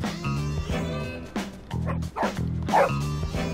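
Dog in the video game Bully barking in repeated yapping bursts over game background music, with some light vocal sounds between barks.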